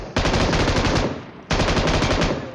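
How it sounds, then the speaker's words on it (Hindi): Rapid automatic gunfire in a battle royale video game, close and loud, in two sustained bursts separated by a short pause. "फिलहाल सामने जो है कोई तो फायर कर रहा था ओपन में लेट के"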